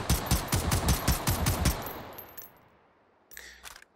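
Rapid burst of rifle fire in the VR shooter Hot Dogs, Horseshoes & Hand Grenades, a steady string of sharp close shots for about two seconds that trails into echo, then a brief mechanical clatter near the end.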